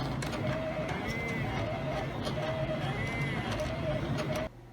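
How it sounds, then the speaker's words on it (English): An electronic cutting machine cuts shapes from shrink plastic sheet, a steady close mechanical whirr with repeating rising and falling motor tones as the blade carriage moves back and forth. "we will put our shrink plastic in and let the machine cut away"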